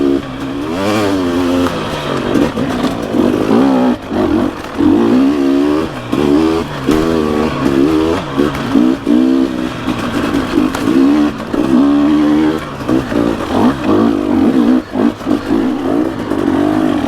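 Dirt bike engine lugging in third gear up a hill on a single-track trail, a loud, close, uneven throbbing drone with rising and falling revs and brief dips.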